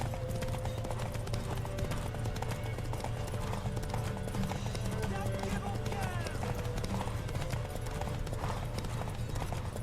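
Horse hooves clip-clop steadily in the video game Witcher 3 during a horse race, a continuous galloping rhythm mixed with game ambience and background music, with voices talking over it.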